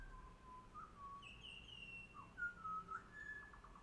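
Wild birds outside a windowsill call in a run of clear, thin whistles and chirps, rising and sliding over a quiet background hum.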